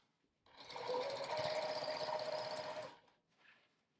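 A sewing machine stitches a quilt along the diagonal in one close, continuous whirring burst of about two and a half seconds, then a brief quieter whir follows.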